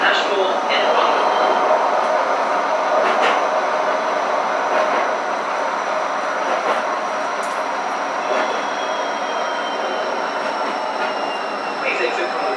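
A Gold Coast tram rolls along with a steady rumble and faint wheel squeals, heard from inside the car while an onboard announcement plays over the noise.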